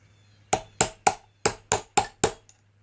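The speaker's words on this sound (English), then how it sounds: "Hammer it." Seven sharp metallic hammer blows strike a bearing puller on the front crankshaft bearing of a Ural motorcycle, evenly spaced and close, with a faint tap trailing after.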